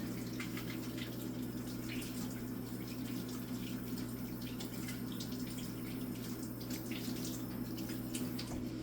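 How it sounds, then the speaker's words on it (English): Water runs steadily from a kitchen tap as hands are rinsed after handling onions, a continuous close splashing hiss with a low hum beneath and faint irregular splatters, unbroken and without talk throughout. "I like washing my hands after touching onions because, well, they're onions."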